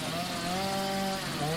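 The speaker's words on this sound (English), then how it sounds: "The sounds of chainsaws echoed through the Clearwater lodges as crews removed trees that came down" Chainsaws cut trees brought down by a storm at lakeside lodges in New Hampshire's Lakes region, producing a steady, droning engine whine that holds a constant pitch, heard at moderate distance without speech.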